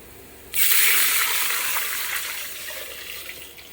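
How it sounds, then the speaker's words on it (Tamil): Water pours into a pressure cooker holding rice and moong dal for ven pongal, a steady close-up gush that starts abruptly after a brief pause and runs continuously, slowly easing in strength. "அஞ்சு உலக்கு தண்ணி ஊற்றுறேன்."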